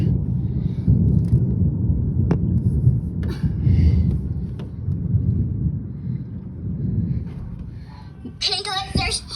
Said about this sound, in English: Hey guys, there's thunder and lightning.